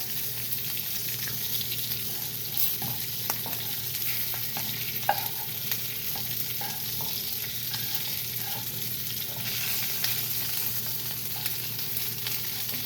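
Pomfret head and tail pan-fry over a low gas flame, a continuous even sizzle with light stirring scrapes scattered across it, no voices.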